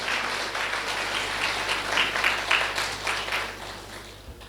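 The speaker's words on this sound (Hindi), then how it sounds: "ताली तो बजाओ भाई।" A crowd at a spiritual discourse applauds steadily for several seconds, a dense wash of clapping that swells and then tapers off toward the end.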